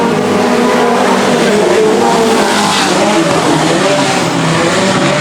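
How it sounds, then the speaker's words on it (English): A pack of speedcars roaring off the line at the green flag of heat 1 in an Australian speedcar race, engines loud and sustained as they accelerate together, with a commentator talking over them. "So here we go with heat 1 of speed cars."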